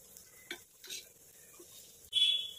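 Fried bombil (Bombay duck) stirred with salt in a pan: a few brief, soft scrapes and stirs near 0.5 and 0.9 seconds, then a brighter sizzling scrape at the end, quiet and close with no talk.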